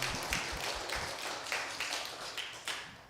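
A church congregation at a Sunday service applauds, a steady, fairly quiet patter of many hands with a few sharper claps standing out, heard from some distance.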